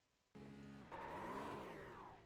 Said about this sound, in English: You can hear too much wheel spin